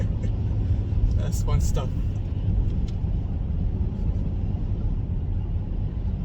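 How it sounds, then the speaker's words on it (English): A Mercedes-Benz GLE43 AMG rumbles loudly from inside the cabin, with a short run of sharp exhaust pops and crackles on a downshift near the start, then steady engine drone while a person speaks briefly. "every gear down, that it makes a popping sound"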